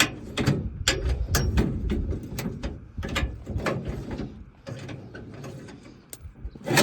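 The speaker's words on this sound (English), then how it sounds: "Use the wrench for the rest of it." Wrench working a part loose while tearing down a car, a run of quick ratcheting clicks and metallic clacks in bursts, close and fairly loud, with short pauses between turns and no talk.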